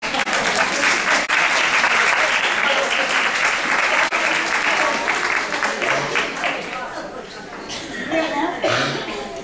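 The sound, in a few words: audience applause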